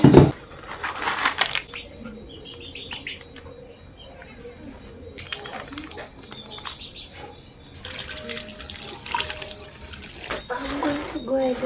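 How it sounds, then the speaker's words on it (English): Water poured into a pot of wild bitter lettuce with baking powder, a faint running and trickling wash that stays low under outdoor insect and bird chirping, with a louder knock at the start. "and then I'll add in some water"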